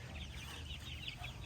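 Meat chickens out on grass give soft, overlapping clucks and murmurs, a faint, continuous flock chatter with no voices.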